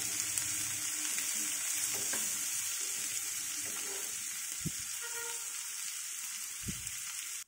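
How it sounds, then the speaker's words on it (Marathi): Carrots, capsicum and peas sizzle steadily in a pan over a high flame for veg pulao, a continuous loud frying hiss with a couple of soft stirring knocks, no voices. "गाजर, शिमला मिरची आणि ते वाटाणे ॲड करून छान असं आपल्याला हाय फ्लेमवर करायचं आहे"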